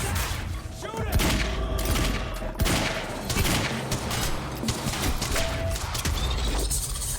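Dense gunfire in the video game Quantum Break, with rapid bursts and repeated sharp shots packed into a continuous fusillade, loud and close, with short shouted voices in between.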